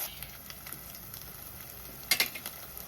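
Ginger garlic paste sizzling in hot oil for a coconut milk chicken biryani, a steady soft frying hiss with a sharper crackling burst near the end.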